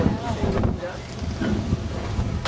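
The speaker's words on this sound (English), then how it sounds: "The wind, the wind's picking up." Strong wind buffets the microphone in loud, uneven low gusts while a rider sits in a wind-driven seat being lifted up outdoors in Wales.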